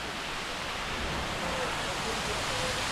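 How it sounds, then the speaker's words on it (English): Silver Waterfall in Sapa rushing as a steady, broad roar of falling water, fairly loud and constant throughout, with a voice speaking over it. "Silver waterfall, everybody."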